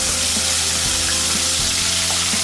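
Chopped tomatoes dropped into hot oil tempering with asafoetida, producing a loud, dense hiss of frying that stays steady and close, with a few soft stirring knocks underneath and no speech.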